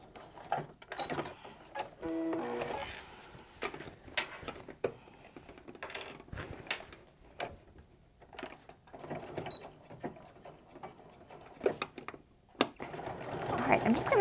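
A sewing machine stitches quilting cotton or cork and canvas handbag fabric, running in short, rapid bursts between pauses and clicks, close and moderately loud, with a voice speaking at times.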